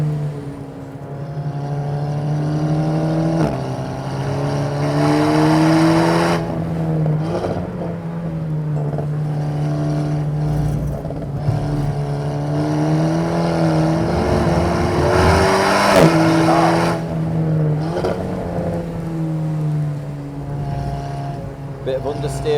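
Alpine A110S on semi-slick tyres with an open differential, driven at full attack on the wet Nordschleife; a steady loud engine drone with shifting pitch and brief rev changes runs throughout, with a voice talking over it.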